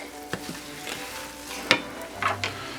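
A banana bread French toast mixture cooks in a pan with a steady close sizzle, broken by a few sharp spoon taps and scrapes against the pan, with no talking.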